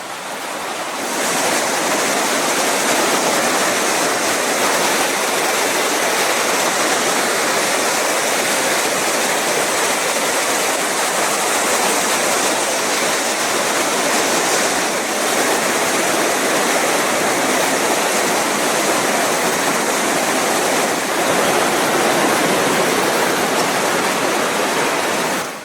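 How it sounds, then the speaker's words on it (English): Little Qualicum River rushes loudly below a railway bridge near Cameron Lake, a constant roaring wash of white water that fills the whole stretch without a break. "Little Qualicum River."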